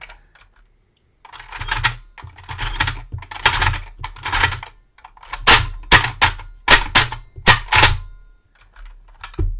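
Clicks and clacks of an intricate mechanical puzzle lock being worked by hand, a quick series of sharp metallic snaps and ratchety clicks arriving in bursts, close and loud, after a brief silent pause.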